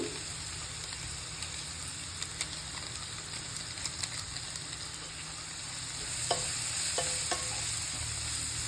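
Pasta frying in a pan with salt and Maggi masala added, a steady close sizzle with occasional stirring scrapes and a few sharper clicks near the end, no voices.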